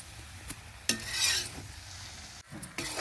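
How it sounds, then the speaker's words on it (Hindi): Brinjal curry with spices stirred in a pan, a spoon scraping through the vegetables in a few close strokes over a soft sizzle, with a couple of sharp clicks against the pan. "देखिए सब्जी को हम चला दिए हैं"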